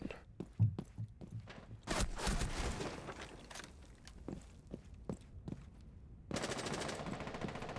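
Automatic gunfire from a cheating player in a video game, heard as rapid clustered shot bursts with short gaps, followed by a dense sustained volley near the end, loud and close.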